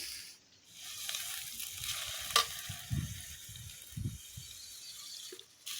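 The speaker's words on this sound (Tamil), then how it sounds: "நல்லா வெங்காயம் வந்து பிங்கிஷாக வதக்கிடுங்க" Five medium chopped onions sauté in a pan, a soft, fairly quiet sizzle broken by several low scraping thumps as a spatula stirs them.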